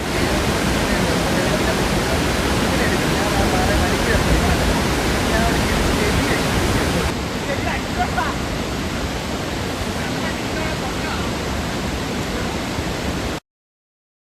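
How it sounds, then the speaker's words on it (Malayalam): Kuthukuzhi waterfall flowing full in monsoon rain, overflowing from a nearby dam, roars as a steady, dense broadband rush of falling water throughout, close and continuous with no voices. "കുത്തുകുഴി വെള്ളച്ചാട്ടത്തിലാണ് ഇത്."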